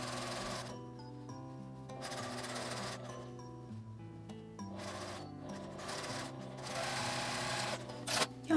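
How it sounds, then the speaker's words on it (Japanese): Sewing machine edge-stitching a pocket onto canvas fabric for a small cosmetic bag, steady mechanical whirring in bursts of stitching with brief pauses between runs, close and fairly quiet. "端ミシンで縫い付けます。"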